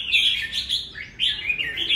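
A red-whiskered bulbul, a 2.5-season fighting bird, sings loudly and continuously in an aggressive display, its bright warbling phrases running close and unbroken with a brief dip midway.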